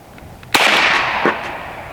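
An AEA Defender PCP air pistol, a 9mm or .457 caliber model, fires a single sharp, loud crack close by at an outdoor range, followed by a brief fading tail and a faint second knock.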